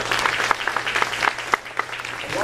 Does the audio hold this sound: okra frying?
no